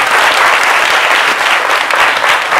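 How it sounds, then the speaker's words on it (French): Warm, loud applause fills a French midday television studio as the audience welcomes an artist, a thick continuous wash of many hands clapping close, steady throughout. "On va faire découvrir sous les applaudissements de notre cher public."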